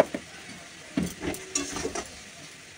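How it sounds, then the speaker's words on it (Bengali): Curry with cumin powder being sautéed in a pan, soft sizzling with intermittent scraping and stirring clatters from a spoon, fairly close and quiet. "এবার এটাকে চলো কষে নিই"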